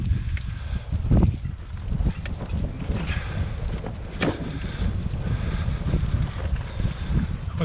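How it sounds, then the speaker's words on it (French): Wind buffets a microphone on a rainy sea coast during rockfishing, a steady low rumble with gusty swells and no one speaking. "Toujours du vent, ça risque de s'entendre."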